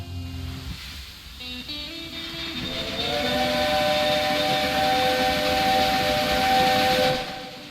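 A steam-era locomotive whistle wails long and loud as a train pulls in within the railway strategy game Railway Empire 2, with rumbling wheels and hiss rising beneath it.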